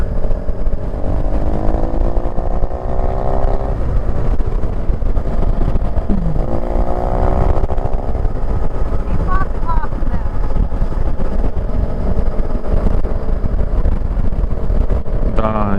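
A motorcycle engine drones steadily on a spring country road lined with rapeseed fields, heard close and loud under constant wind rush, with the pitch rising and falling through gear changes and a voice speaking over it.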